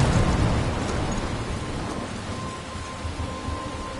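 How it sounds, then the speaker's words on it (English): In the video game Life is Strange, a thunderstorm rumbles heavily at first, then settles into a steady rain hiss that gradually softens, with no voices. "I'm trapped in a storm?"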